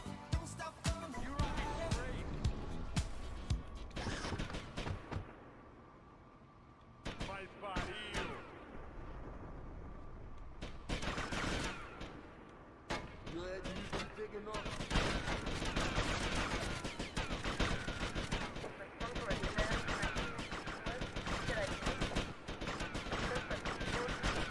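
Gunfire from a gun in GTA Vice City, with repeated sharp shots and bursts cracking loudly through dense, busy game noise, briefly thinning to a quieter stretch before the shooting resumes.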